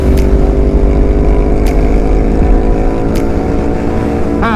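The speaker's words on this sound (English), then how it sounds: "In the Ducati Scrambler Night Shift Edition." A Ducati Scrambler Night Shift Edition motorcycle is ridden through Lamoille Canyon, Nevada, giving a loud, continuous engine drone mixed with rushing wind noise, with no talking.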